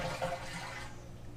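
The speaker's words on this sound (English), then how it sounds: "I'm going to flush the toilet to get the water out." A household toilet with its supply valve closed is flushed, giving a brief, close rush of draining water that fades quickly without refilling.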